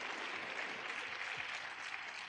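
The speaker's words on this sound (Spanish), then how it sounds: "un aplauso para ellas y él," Audience applause at a university session on the modular system at UAM-X, a steady dense clapping from a crowd that carries evenly through the whole stretch with no voices over it.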